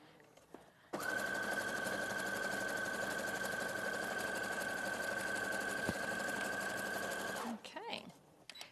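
A sewing machine stitches in one steady, continuous run lasting several seconds, its motor humming evenly and close by, then stopping abruptly.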